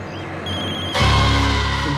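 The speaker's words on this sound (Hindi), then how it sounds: "तुम्हारा फोन बज रहा है।" A telephone rings with steady tonal chiming, then a louder, denser wash of sound swells in after about a second and holds to the end, with no talking.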